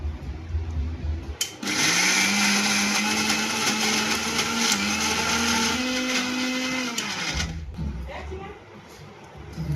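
A kitchen mixer grinder whirs at high speed, blending masala for paneer tikka. It starts abruptly after a brief pause, runs loud and steady for about six seconds, then cuts off, with some clatter before and after.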